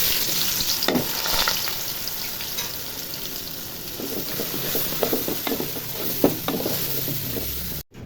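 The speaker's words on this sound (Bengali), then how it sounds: "তেল গরম হয়ে গেছে, এখন চাল ধুয়ে রেখেছি সে চালগুলো ঢেলে দিব।" Washed rice hitting hot oil for beef biryani, giving a steady broadband sizzle with scattered stirring scrapes and clicks of a utensil against the pot, close and continuous throughout.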